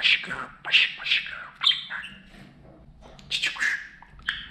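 A pet budgerigar chirps in a home, a quick run of bright, close chirps and short warbles in two bursts with a brief lull between.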